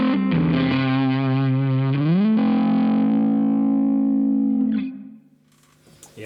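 Distorted electric guitar with humbucker pickups played through a Marshall Origin 20 amp head, a loud sustained chord ringing alone for about five seconds before being cut off, followed by faint string noise.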